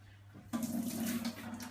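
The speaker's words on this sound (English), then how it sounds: "So I'm just going to go ahead and wash my hands." Tap water suddenly starts running into a sink for hand washing, a steady close splashing rush that continues after a brief quiet moment.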